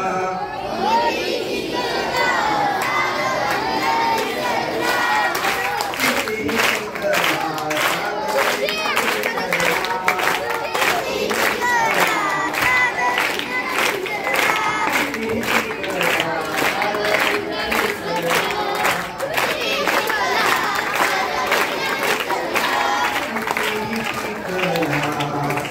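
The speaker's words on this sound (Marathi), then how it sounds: "सिद्धीसाठी जोरदार टाळ्या होत्या" Loud, sustained clapping and cheering for a girl named Siddhi from a school audience at an anti-superstition programme in Akluj, dense and continuous for the whole stretch, with crowd chatter and voices mixed in.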